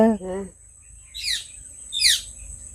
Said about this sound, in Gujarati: ઉપર લેમડા ઉપર પોપટ બોલે છે